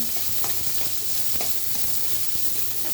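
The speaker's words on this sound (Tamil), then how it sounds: "பச்சை மிளகாய் வெங்காயம் அடுப்பில் சிம்மை வச்சுட்டு நல்லா கலர் விடுங்க" Green chilies and onions fry on a low flame for carrot beans poriyal, a dense, even sizzle with occasional spatula strokes, near and uninterrupted by speech.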